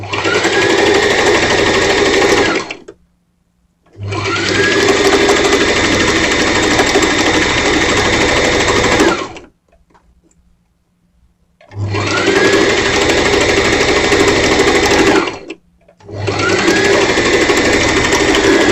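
A sewing machine back-stitches a simple skirt in four loud, steady runs of several seconds each, separated by short silent pauses.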